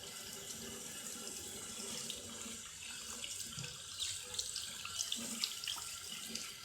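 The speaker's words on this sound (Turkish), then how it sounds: "Üzerine duş elini döktüm" Steady running water from a shower head pours and splashes continuously over small chicks being bathed, with a few louder splashes toward the end.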